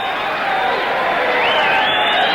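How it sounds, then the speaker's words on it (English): Crowd noise fills a boxing arena in Reno, a dense, continuous murmur of many voices at a steady, moderate volume without clear cheering peaks. "Crowd not quite as electric as I thought it might be"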